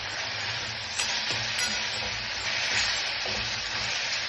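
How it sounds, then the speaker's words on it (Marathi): Tomato sautéing in a pan while making moong usal, a steady close sizzle with a few faint stirring scrapes and no voices. "आता आपण त्याच्यात टमाटा टाकू, ते चांगलं परतून घ्यायचं।"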